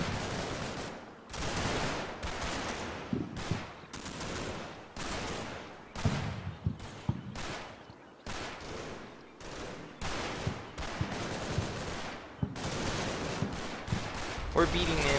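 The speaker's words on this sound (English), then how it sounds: "It's a real firefight now." A firefight in Combat Mission: Battle for Normandy, with dense bursts of rifle and machine-gun fire that crackle almost continuously and loudly, punctuated by sharper reports and mixed with a voice talking over the shooting.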